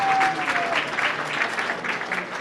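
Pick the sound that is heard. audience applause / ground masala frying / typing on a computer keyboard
audience applause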